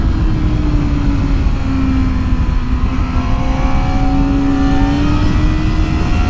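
A Kawasaki ZX4RR sport motorcycle's small inline-four engine screams at high revs on a racetrack, a loud continuous whine that climbs steadily in pitch, heard close over heavy wind rush.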